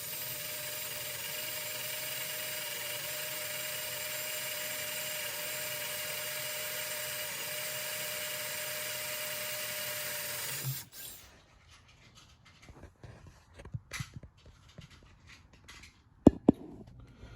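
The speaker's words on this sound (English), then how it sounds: "Commence to drilling." An electric drill whirs steadily and continuously for about ten seconds drilling holes in a wheel rim, then stops, followed by quiet clicks, rattles and a few sharp knocks.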